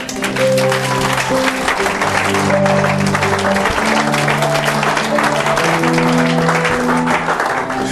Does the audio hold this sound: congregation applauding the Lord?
yes